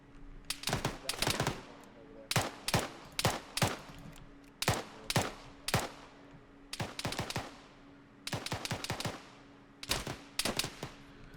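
Bursts of automatic gunfire from the military simulation game Arma 3 ring out in rapid clusters of sharp shots with short pauses between volleys. The fire is loud and fairly close, and no one speaks.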